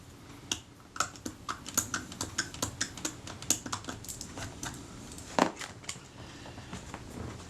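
A screwdriver works a small screw loose on a Kodak Retinette IIA camera, giving a close, irregular run of sharp little clicks and ticks with one louder snap near the end, and no voices.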